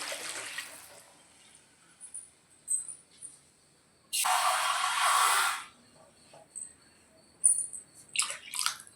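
Water pours into a cooking pot of tomatoes in a home kitchen, a steady rushing splash of about a second, then a few light clinks and drips, with no talk.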